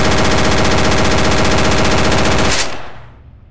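A PPSh submachine gun in the Gun Club VR shooting game fires one long, rapid, unbroken burst, loud and close, that stops abruptly and leaves a short fading echo.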